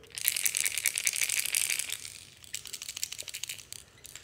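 A knocker-style fishing lure shaken by hand, its internal weight clattering in rapid bright rattles, dense at first then thinning into looser clicks, fairly quiet and close with no voice.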